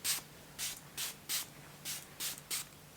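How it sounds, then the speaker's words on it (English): Six short, soft sprays of facial mist onto skin in a steady rhythm, each a brief airy hiss close by, with quiet pauses between. "So I'm gonna go ahead and spray this onto my skin"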